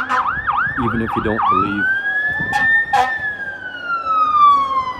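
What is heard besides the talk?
emergency vehicle sirens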